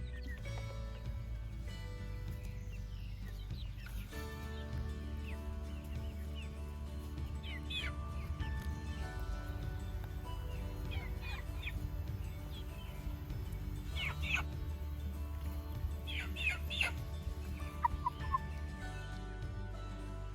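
Several chickens cluck intermittently at close range, the calls rising above a constant low rumble of background noise.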